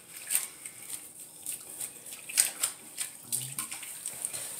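Water splashes and patters softly as a wig soaks in shampooed water in a basin, with intermittent gentle sloshing nearby.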